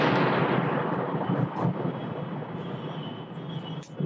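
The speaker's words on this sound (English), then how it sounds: "there's obviously a thunderstorm coming. That was what you just heard." Thunder from an approaching thunderstorm rumbles in a long, loud, broad roll that slowly fades, heard from inside a car.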